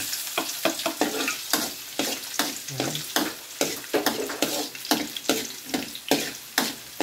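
Garlic sizzles in hot oil for pork bopis, a steady crackling fry broken by repeated scraping stirs of a spatula against the pan, close and fairly loud with no talking.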